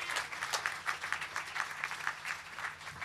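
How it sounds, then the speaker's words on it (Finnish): Audience applause at a church revival event in Helsinki, steady crowd clapping with a lively irregular patter that stays even throughout. "Annetaan Joonakselle vielä aplodit"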